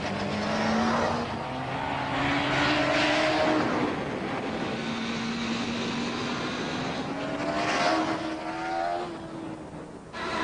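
A 1998 Honda Fireblade sports motorcycle riding along, its engine note rising and falling through gear changes, steady and fairly loud with no voices over it.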